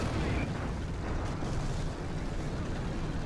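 A tank cannon shot fired back during a War Thunder battle involving a Tiger II, heard as a dense, sustained boom and rumble that fills the whole stretch with broad low-heavy noise, loud and continuous without clear separate blasts.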